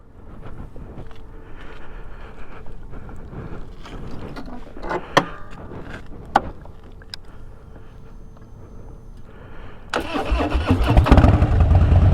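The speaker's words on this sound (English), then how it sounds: "I think this might be my favorite bike. So anyway, let's go for a ride." Harley-Davidson Dyna with a 103 engine cranks and starts up, a low rumbling idle with a couple of sharp clicks, then swells into a loud, deep revving roar near the end.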